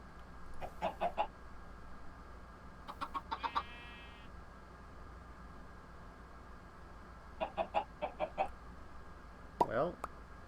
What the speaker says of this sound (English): So these two chickens will make baby chickens.